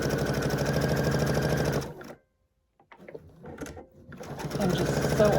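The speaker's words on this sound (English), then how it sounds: "And just sew on each of those lines." Sewing machine stitching lines on a quilted placemat, running in a steady close whir, stopping for about a second of silence with faint handling sounds, then starting up again.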